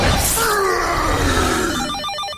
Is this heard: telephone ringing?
yes